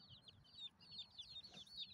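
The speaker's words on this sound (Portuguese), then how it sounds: "A alegria das galinhas e dos pintinhos." Hens and chicks in a backyard run near a compost pile cluck and peep faintly, with high chirps overlapping in quick bursts over soft low background noise.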